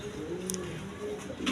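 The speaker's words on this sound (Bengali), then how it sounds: "এখানে এক পেয়ার কবুতর আছে, দুইটা বাচ্চা সহ নিতে পারবেন। আর্মি কবুতর দেখেন" A pair of Army breed pigeons coo at a market stall, soft low repeated coos with a few faint higher chirps mixed in, close by against steady background noise.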